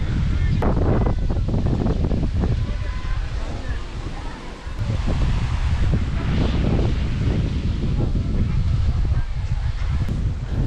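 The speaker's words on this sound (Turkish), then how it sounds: "Biraz rüzgarlı. Rüzgar şu an tam karşımdan esiyor." Steady, loud wind buffeting the microphone outdoors on a Marmara Sea coast near Erdek, Turkey, a broad continuous roar with faint water or surf underneath.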